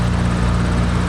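Steady, loud drone of a PA-38 Tomahawk's propeller engine cruising in flight in the X-Plane 11 simulator, a continuous low hum with no break and no talk.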